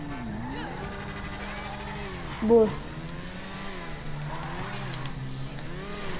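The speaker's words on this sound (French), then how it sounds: "Et je peux vous dire qu'elle va super vite cette moto." A fast motorcycle from a new DLC bike pack revs and accelerates in a video game, its engine tone rising and falling in waves under continuous male speech in French.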